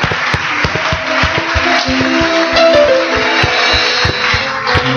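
A church congregation breaks into loud, sustained applause, dense overlapping claps filling the room close up, with a few sharper individual claps standing out and no voices on top.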